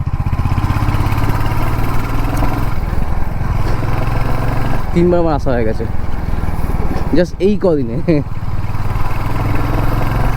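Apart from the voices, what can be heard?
motorcycle engine while riding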